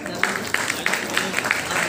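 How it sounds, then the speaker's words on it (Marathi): An audience at an anniversary function for a Raigad weekly newspaper breaks into applause, a dense patter of many hands clapping at moderate distance. "एकदा या कार्यक्रमासाठी, या साप्ताहिकासाठी एकदा जोरदार टाळ्या होऊन जाऊ देत।"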